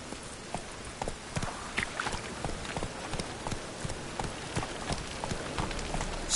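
Horse hooves clip-clop in a steady galloping rhythm while riding in a PS4 game, with brief rain-like patter underneath and no clear talk.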